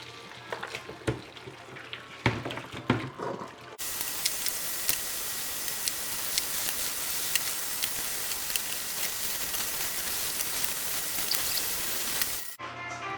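Tap water running hard into a kitchen sink while raw short ribs for spicy galbijjim are rinsed, a steady loud hiss lasting about nine seconds after a few clanks and handling noises, then cutting off abruptly.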